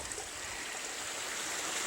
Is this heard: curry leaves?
no